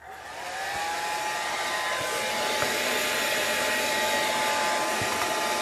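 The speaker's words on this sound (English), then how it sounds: "Blow dryer." A hair dryer whirs up and blows steadily at close range, a continuous airy roar with a faint high whine and no talking.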